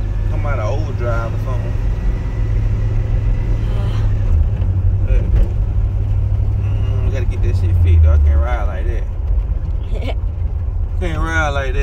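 A 1987 Oldsmobile Cutlass on the move, its engine drone and road rumble steady throughout, with people talking inside the car over it.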